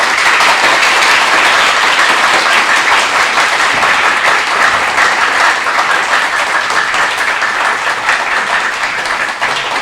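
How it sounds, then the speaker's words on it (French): An audience applauds a high school team at a school competition, loud sustained clapping from many hands that holds steady and tapers slightly toward the end. "Sur vos applaudissements, s'il vous plaît."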